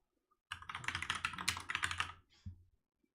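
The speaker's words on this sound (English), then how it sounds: "I'm sick of typing that over and over and over." Rapid keystrokes on a computer keyboard during coding, a close dense burst of clicks for about two seconds followed by a few final taps.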